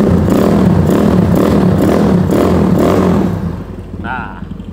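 A motorcycle engine runs loud and revs in repeated throaty surges, then cuts off, leaving a brief quieter tail with a faint voice.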